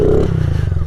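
A Honda CRF50 pit bike engine revs in snow, a loud, close, buzzy pulsing drone that surges at the start and then eases into a rapid, throbbing putter.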